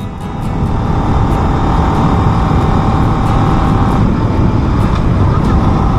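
A Yamaha LC135 Fi V8 2022 motorcycle rides along, its engine and road noise forming a loud, steady drone with a brief change partway through as it shifts gears, while wind roars around it.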